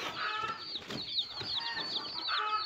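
A crowd of young chicks dyed and passed off as turkey chicks, cheeping in a steady shrill chorus of overlapping high peeps, close and fairly loud, with some low background murmur.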